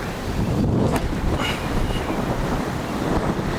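Strong wind on an outdoor disc golf course in Coppell, Texas, a loud continuous roar buffeting the microphone with gusty swells, no talk.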